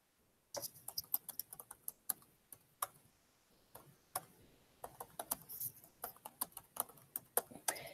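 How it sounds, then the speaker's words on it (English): Quick, irregular clacking of a computer keyboard as text is typed into a text box. The keystrokes come in short bursts, close and fairly quiet, with brief pauses between runs. "you can also insert a text box here to type whatever you want to type"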